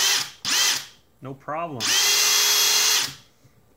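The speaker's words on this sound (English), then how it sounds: "So if we put the Hercules battery into the SDS drill, we can see," An SDS rotary drill powered by a Harbor Freight Hercules battery fitted with a 10 kilo-ohm resistor whines up in two short bursts, then runs steadily for over a second, loud and close, with a brief spoken remark between the runs.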